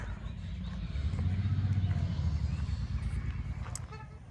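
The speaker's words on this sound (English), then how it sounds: "sorry about the traffic noise out here" Street traffic rumbles steadily outside an old house, a low, close drone that swells in the middle, with a brief car horn toot sounding over the roar.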